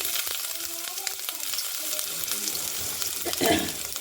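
Ginger and dried red chilies frying in a hot pan for rava pongal, giving a dense, continuous close sizzle with a few small clatters and a louder burst of movement near the end.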